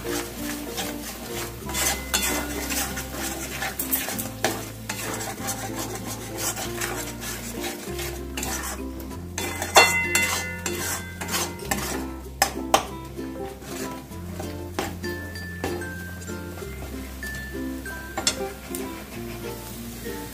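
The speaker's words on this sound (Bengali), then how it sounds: "অল্প আঁচেতেই আমি কষাবো মশলাটাকে।" Spice paste is stirred and fried in a pan over low heat, with repeated scraping and rubbing strokes of a utensil against the pan and a soft sizzle underneath, close and steady throughout.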